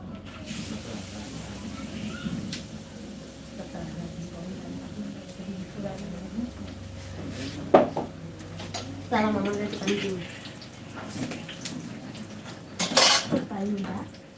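Snacks frying in a hotel kitchen, with steady oil hiss and pots, pans and utensils clattering close by while people talk over the noise.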